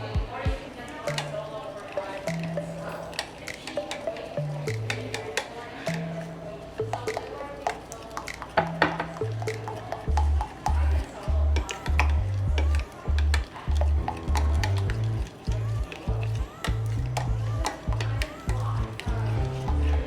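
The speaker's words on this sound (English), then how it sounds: "Just gonna stir it up. Make sure everything is mixed in well." A spoon stirs microwaved vegan Oreo brownie batter, giving soft squishy scrapes and clinks against the dish, partly under steady background music with a pulsing beat.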